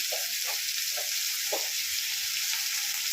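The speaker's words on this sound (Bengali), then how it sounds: "এবার এটা ভাজার জন্য রাখা হলো" Banana flower curry with a ginger-and-tomato paste sizzles steadily in a pan, a close, continuous frying hiss with a few soft stirring scrapes near the start.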